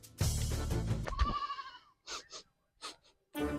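A goat bleats loudly and wavering near the start, then several shorter, choppier bleats follow in quick succession with brief silences between.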